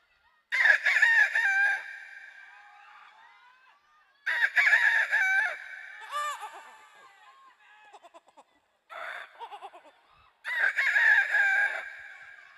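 A voice imitates a rooster crowing several times in drawn-out, loud calls separated by short pauses, at a live comedy show at a Rongali Bihu festival.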